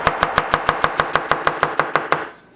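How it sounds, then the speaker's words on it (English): A knife julienning an onion on a cutting board gives about a dozen crisp, evenly spaced chops in quick rhythm, close and clear, then stops. "it's going to julienne that up."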